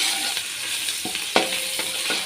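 Ginger garlic paste, one tablespoon, frying in hot oil in a pan during preparation of matar pulao, a steady close sizzle with a few sharp stirring clinks and scrapes breaking through.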